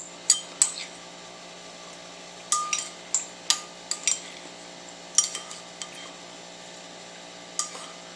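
A spoon scrapes and digs into frozen watermelon sherbet, giving a handful of sharp, close clinks and scratches spaced irregularly over a faint steady background hum.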